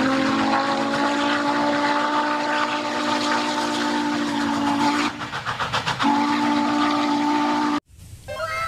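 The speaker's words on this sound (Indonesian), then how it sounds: "Wow, mantap kereta api uap." Toy steam train with a whistle, giving a loud, steady whistle tone that holds for several seconds, briefly dips, resumes and then cuts off sharply near the end.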